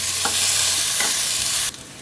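Vegetables for fresh lumpia stirred in a pan over medium heat, with a steady bright sizzle and two soft scrapes of the utensil before the sizzle drops away near the end; no talking.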